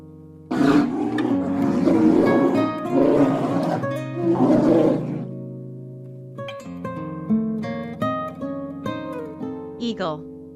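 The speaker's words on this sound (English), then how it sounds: "Polar bear." A polar bear lets out a loud, rough roar lasting several seconds, and a light plucked melody follows once the roar fades.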